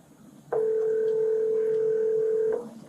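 A telephone tone sounds during a school office phone call, one steady two-pitch beep held for about two seconds, clear and fairly loud over faint room noise, with no speech.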